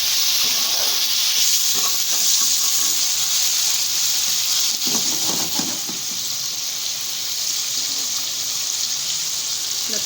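Steady, loud sizzling and hissing as tomatoes fry in a hot pan, with faint scrapes and clinks now and then, continuing without pause.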